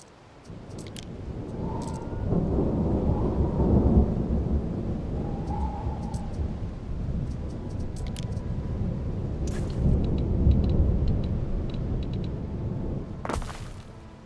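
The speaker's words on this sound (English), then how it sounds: "with it raining constantly, I don't think fire's gonna be that big of a deal" Steady heavy rain with rolling thunder in the Roman-era city-building game ANNO 117, a constant wash of downpour with deep rumbles swelling and fading, faint chimes and clicks scattered on top.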